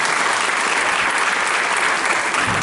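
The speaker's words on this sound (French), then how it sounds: "j'aimerais qu'on l'applaudisse très très fort" Loud, dense applause from a hypnosis show audience, clapping for a volunteer who has just left the stage, sustained evenly with no talking on top.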